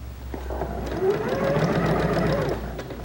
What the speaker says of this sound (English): we'll just chain stitch